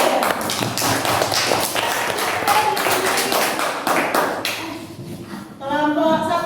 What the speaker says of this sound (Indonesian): Ya, tepuk tangan 100 untuk kelompok 3.